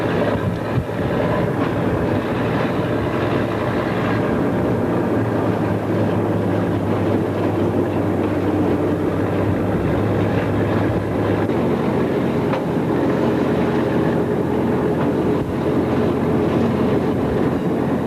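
A Southern Michigan Railroad train rolls along the rails in summer 1987, a continuous loud rumble with faint wheel clatter and a low steady engine drone throughout.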